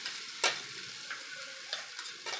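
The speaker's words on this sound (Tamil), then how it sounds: "இப்போ இந்த பருப்பூசலியை வந்து இந்த எண்ணெயில்" Lentil paste with curry leaves stir-fried in oil in a home kitchen gives a soft, steady sizzle, broken by a few sharp scrapes of a stirring spoon, with no talking.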